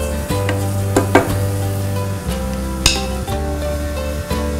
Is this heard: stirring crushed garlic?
yes